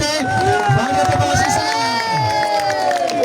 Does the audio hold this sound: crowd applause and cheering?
yes